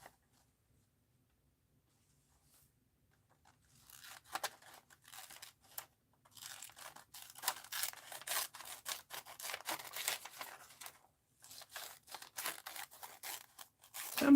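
Scissors snip through a magazine page in a fast run of small crisp cuts and rustling paper, close and fairly quiet, starting after a few seconds of near silence.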